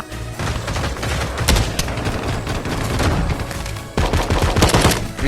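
Rapid automatic gunfire in the Pavlov shooter game, loud and dense bursts rattling almost continuously, with a brief lull near the end before another heavy volley.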